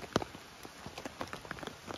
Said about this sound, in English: we're just in for a nice night of rain